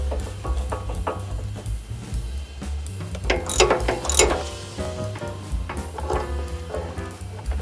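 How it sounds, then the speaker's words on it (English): A puller works on the pitman arm of an old Chevy truck's steering gear, giving close, uneven ratcheting clicks and metallic creaks with a steady low hum underneath. "We need to use a puller to get that off of there."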